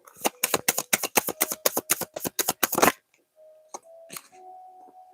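A tarot deck being shuffled up close, about a dozen quick crisp riffles in a steady rhythm, followed by a few faint clicks and tones.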